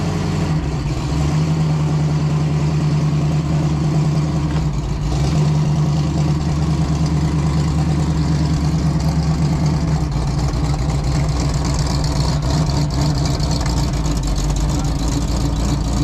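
An old Hornet car engine idles steadily to warm up after sitting in a shed, a continuous low rumble close by that stays even throughout with a small dip partway.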